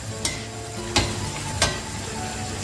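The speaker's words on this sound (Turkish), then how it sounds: "Makarnayı iyice sosla buluşturuyorum." Steady sizzling of penne frying in spicy tomato arrabbiata sauce, with a few sharp stirring scrapes at regular intervals, close and fairly loud, no talking.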